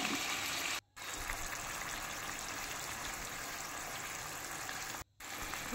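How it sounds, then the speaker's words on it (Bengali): Water from rinsing spices is poured into a pan of potatoes cooking in olive oil, making a steady, even gush that runs throughout and cuts out briefly twice, with no talking. "মশলা ধোয়ার জলটা এর মধ্যে দিয়ে দিলাম"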